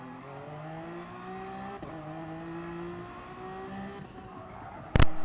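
Hybrid race cars on hot laps in a team challenge event, engines droning and climbing steadily through gears with shifts partway through, ending in a sudden loud, sharp burst close by.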